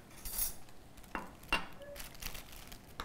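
A spoon stirs sugarless milk into a mixture in a bowl on a breakfast cooking show, giving a few faint, scattered scrapes and light clinks against the bowl.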